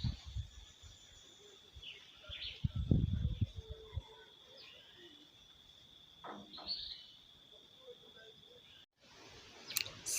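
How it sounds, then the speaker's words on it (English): Birds calling on a rural nature walk in Jamaica near banana trees, with a steady high insect-like whine throughout, scattered chirps and a few louder bursts, plus low rustling noise early on. "if you listen, you can hear the birds' music"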